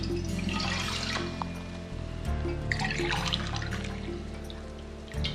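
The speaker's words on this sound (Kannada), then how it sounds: "ಇದಕ್ಕೆ ನಾನು 2 ಲೋಟ ನೀರು ಹಾಕೋತೀನಿ" Water pours from a glass into a pan for rice flour dough, a steady splashing trickle that swells twice, close up over a constant low kitchen hum, with no talking.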